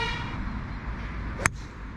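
A single short car horn toot sounds once near a golf course in Mazamet, a brief sharp blast standing out over steady low outdoor rumble.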